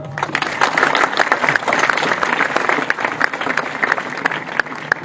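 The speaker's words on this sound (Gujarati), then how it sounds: "તાળી પાડો" Sustained audience applause fills a crowd at a ground-breaking ceremony for a taluka-level sports complex in Savarkundla, loud and dense with sharp individual claps throughout.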